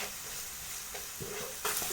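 Chopped onion sizzling and frying in a pressure cooker, with a steady close hiss, soft stirring scrapes and a louder burst of sizzle near the end.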